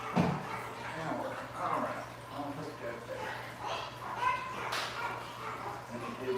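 Dogs bark and whimper at a distance, with short yips and whines scattered over several seconds beneath a person talking and a steady electrical hum.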